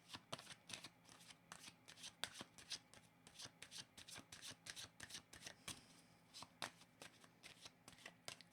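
Tarot cards shuffled by hand for a card reading, a steady run of crisp riffling flutters and soft slaps repeating every fraction of a second, close and quiet, with no voice over them.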